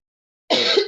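After half a second of silence, a single harsh, loud cough bursts out close by from someone speaking about a library's history, followed by the start of a second one.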